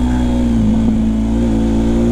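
A 1250cc motorcycle engine running with traction control engaged, a loud, close, steady engine drone holding a constant pitch with no speech over it.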